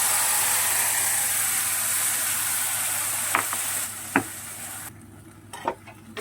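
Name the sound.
pea paste frying in pan on medium heat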